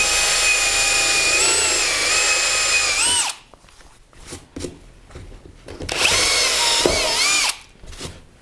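A bimetal hole saw cutting into composite plastic, with a loud, steady power-drill whine that stops abruptly, followed by short bursts and a second sustained run of drilling.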